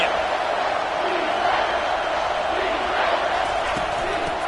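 Steady roar of a packed college football stadium crowd during an SEC game, a continuous broad wash of voices and cheering with no breaks, loud and sustained.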